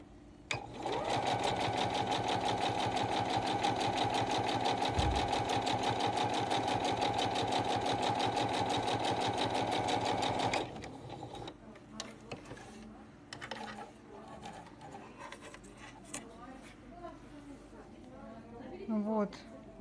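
A sewing machine fitted with a blind stitch foot runs an edge topstitch with the needle in the centre position. A steady, loud mechanical whir lasts about ten seconds, then stops, leaving quieter handling noises.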